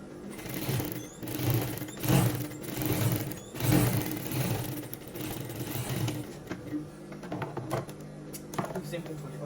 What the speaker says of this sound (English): I'm just going to sew another top stitch